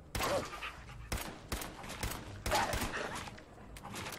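Several loud gunshot bursts from a pipe gun fired in Fallout 4, sharp cracks spaced irregularly about half a second to a second apart, each with a ringing tail over a steady background of game noise.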